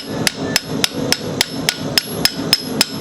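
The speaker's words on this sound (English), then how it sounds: "I'm going to dig that corner of my chisel right into that mark." Steady series of about ten sharp, ringing metallic strikes as a hammer drives a chisel corner into hot steel while forging a bottle opener, evenly spaced and close, with no talk.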